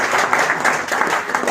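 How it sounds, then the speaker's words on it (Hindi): Audience at a business seminar clapping loudly and steadily, a brief dense burst of many hands filling the room with no talk over it. "जोरदार तालियां सर के लिए।"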